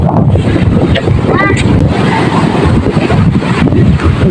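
Large, rough sea waves roll onto a beach after a storm, a loud, steady wash of surf with heavy wind buffeting the microphone throughout.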